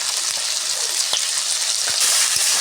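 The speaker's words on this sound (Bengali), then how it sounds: "আলু আর মটরশুঁটি দেখুন বন্ধুরা ভালো করে ভেজে নিচ্ছি" Potatoes and peas with salt and turmeric fry in a pan for ghugni, giving a steady, loud sizzle with a few faint scraping stirs and no talk.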